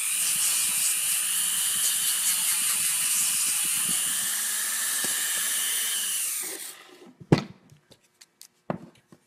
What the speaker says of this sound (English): Sounds like somebody's Dremel's not behaving well.